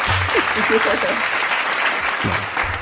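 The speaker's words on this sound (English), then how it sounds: "Can you give him a round of applause?" Applause from a small group during a football discussion show about Manchester United versus Chelsea, a steady dense patter lasting throughout with voices and laughter mixed in over it.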